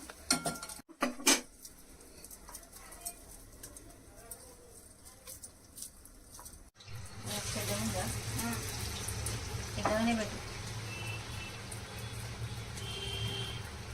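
Bottle gourd vadas being fried a second time in hot oil: a low steady sizzle begins, then swells into a louder, dense crackle partway through, with a voice talking over it and a few utensil clinks.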